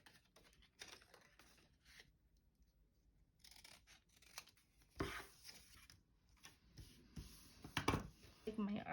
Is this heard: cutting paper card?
yes